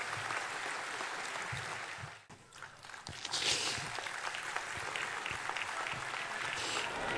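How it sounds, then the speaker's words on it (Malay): A crowd at a Malaysian political gathering applauds for a datin and her children, with sustained clapping and a brief dip midway before it picks up again. "Tepukan untuk mereka."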